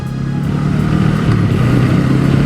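A Honda Rebel motorcycle engine runs with a loud, steady, close rumble and slight shifts in pitch, with no talking.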